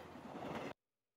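A train runs towards Woking, a brief close rumbling clatter that stops abruptly after less than a second, leaving silence.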